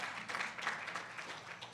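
A conference plenary audience gives brief, fairly quiet applause, a soft continuous patter of many hands heard from a distance.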